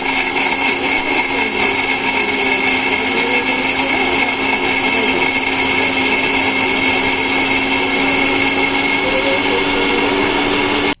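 A blender grinds coconut with water into a paste, its motor giving a loud, steady, high-pitched whirring roar that holds unchanged throughout and stops abruptly at the very end.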